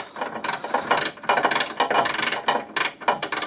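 A ratchet wrench with a 13 millimeter socket turns a nut on a Sole treadmill. Quick uneven bursts of clicking sound close by, with no talking.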